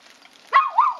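A single close dog bark rises sharply and trails off into a drawn-out whining yelp after a brief quiet lead-in.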